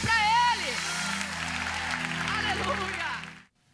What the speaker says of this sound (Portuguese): Aplauda bem forte ao Rei dos Reis e Senhor dos Senhores